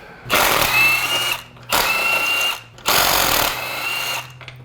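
A power tool loosening spark plugs on a 2000 Acura Integra engine, running in three loud, close whirring bursts separated by brief pauses.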